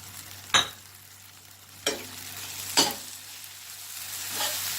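Green chillies and turmeric hit a hot pan for paneer butter masala, producing three sharp bursts of sizzling as they are added and stirred, then a rising, steady fry hiss toward the end.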